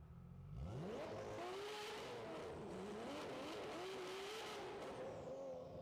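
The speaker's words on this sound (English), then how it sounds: "The car sounds so good, bro." A tuned car fresh from an ECU flash roars past at close range, its engine note rising and sweeping through gears with a steady loud drone and a brief tire-squeal edge, no talk over it.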